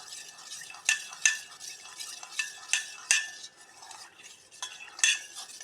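A spoon scrapes and knocks against a pot as custard powder is stirred and brought to a boil for mango payasa, a series of sharp metallic clinks at an irregular rhythm over a quiet background.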